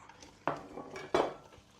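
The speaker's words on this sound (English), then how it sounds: "I have to whisk in this 400 rather grams of light soft brown sugar" Light soft brown sugar being whisked into a blondie mix in a bowl gives two distinct metallic clinks of the whisk against the bowl over a faint, soft rustle.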